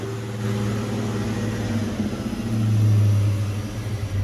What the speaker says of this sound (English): See, it went way up. Now it's coming down. Nice calm idling.